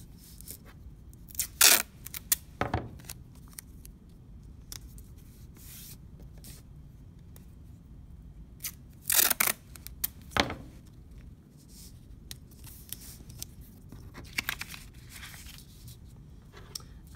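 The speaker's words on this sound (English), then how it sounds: "You're going to start tearing your tape and placing it where you want your trees to go." Masking tape is torn in short strips for a winter watercolor landscape, several sharp ripping bursts scattered over a quiet, close background with soft handling rustles and no talk.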